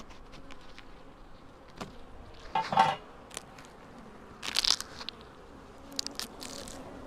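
Honey bees from a swarm removed from a chimney: a faint, uneven insect buzz with louder bursts of buzzing and occasional knocks and rustles from nearby handling of the colony. No talking.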